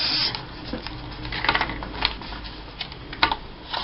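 Scrapbook paper being cut by hand, a run of soft, irregular snips and crisp rustles, close and fairly quiet, alone without talk.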